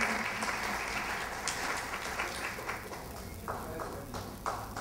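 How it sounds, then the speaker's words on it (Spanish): Steady applause from an audience for honorees at a youth council recognition ceremony, filling the whole stretch at moderate distance without a break. "Un aplauso para ellos, por favor."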